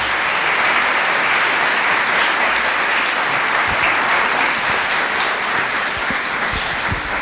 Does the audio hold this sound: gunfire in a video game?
no